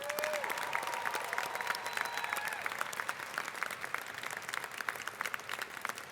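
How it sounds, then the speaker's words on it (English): Audience applause at a convocation ceremony, a steady sustained wash of many hands clapping across the whole stretch, fairly distant and even in level. "Please join me in showing your appreciation with a round of applause."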